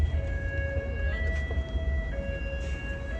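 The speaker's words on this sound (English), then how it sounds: "The trick when you hear a siren in New York is figuring out where it's coming from." A wailing siren with steady held tones rises over low rumbling New York City street traffic, moderately close and continuous.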